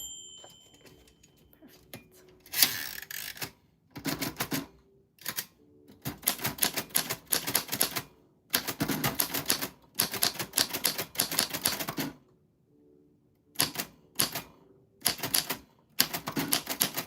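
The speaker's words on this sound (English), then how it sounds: "But I do worry because it's an old typewriter." An old manual typewriter is typed on in a quiet room, its keys clacking in dense, rapid bursts separated by short pauses, loud and close with no talking.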